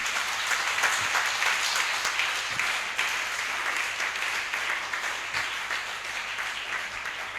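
A church congregation applauds and acclaims the Lord with sustained, dense clapping and a faint undertone of voices, filling the hall steadily throughout.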